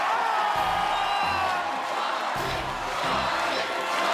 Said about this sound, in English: The crowd chanting his name.